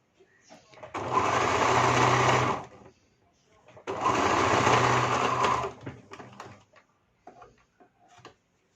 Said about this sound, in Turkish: tutuyorum ve buraya kadar dikiyorum bir miktarını